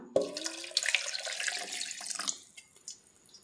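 Water splashes and pours for a couple of seconds into raw mango buttermilk with curd and salt, close and fairly quiet, tapering into a few soft drips.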